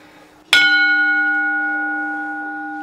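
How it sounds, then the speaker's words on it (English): A bronze bell, likely an antique from a ship or factory, is struck once near and loud, then rings on with a long, steady, slowly fading metallic tone. "It's bronze, the bell, isn't it?"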